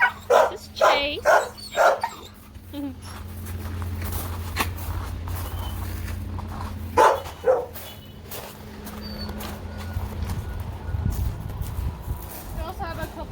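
Dogs bark in a burst of loud, close yaps at an animal shelter kennel, then bark again sporadically, with people talking over and between the barks.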